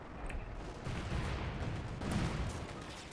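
Booming artillery and gunfire rumble in Company of Heroes 2 during a four-versus-four match, a dense continuous battle roar with a couple of heavier swells partway through, fairly distant and muffled.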